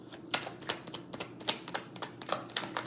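Tarot cards are shuffled by hand in a quick series of crisp riffling snaps and taps, about a dozen short bursts in an irregular rhythm, close and quiet with no talk.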